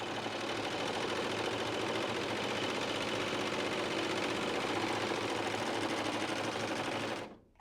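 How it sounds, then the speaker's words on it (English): A bernette serger stitches along sample fabric in one steady, loud mechanical whir that runs for about seven seconds before stopping abruptly. "Put your fabric right up to the front of the foot and start to stitch."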